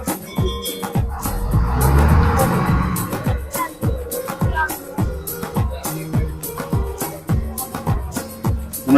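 A passenger boat's engine thumps in a steady, rhythmic chug as the boat leaves a jetty on the Kottayam backwaters, loud and close, with a swelling wash of water noise early on.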